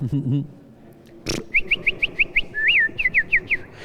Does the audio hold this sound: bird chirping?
yes